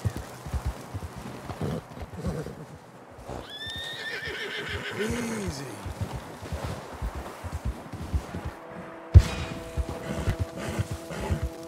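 A horse in the video game Red Dead Redemption 2 lets out a loud, drawn-out whinny mid-way, with clip-clop hoof steps and rustling movement before and after.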